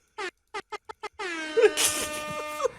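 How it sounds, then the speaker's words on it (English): After a few short staccato blasts, a loud Latin air horn blares a sustained, brassy melody, close and harsh, over some background noise. "You get not only an air horn, but you get the Latin air horn."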